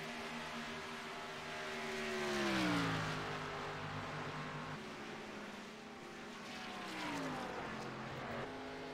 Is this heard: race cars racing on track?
yes